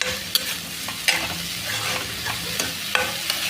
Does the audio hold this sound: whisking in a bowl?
no